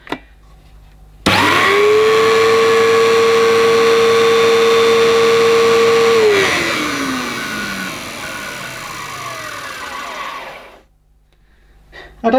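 An Electrolux Z1910 self-propelled cyclone vacuum cleaner starts up loudly nearby with a steady high motor whine, then spins down and fades as the motor slows.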